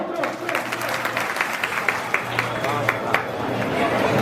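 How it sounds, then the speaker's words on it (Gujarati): A crowd at a Gujarati community get-together ceremony for Shri Shamlaji applauds, with steady rhythmic clapping throughout and a voice talking over it. "તાળીઓ પાડો મિત્રો."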